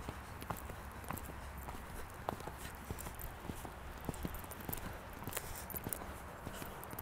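Horse hooves strike soft ground during a riding lesson at a slowing canter, a faint, steady run of muffled thuds in an even rhythm, with no talk over them.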